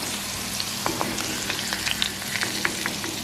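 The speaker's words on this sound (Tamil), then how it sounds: "அப்படியே எல்லாத்தையும் பொரித்து எடுங்க." Pieces of cuttlefish frying in hot oil for a Tamil home-style dish, giving a steady close bubbling sizzle with light clicks and spatters scattered throughout and no voices.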